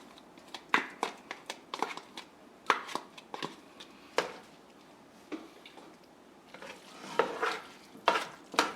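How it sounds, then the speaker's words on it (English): A spoon stirs buffalo chicken wing dip in a pot over low heat, producing a quick run of close, sharp scrapes and taps in uneven bursts, with quieter gaps between. "You can stir that up."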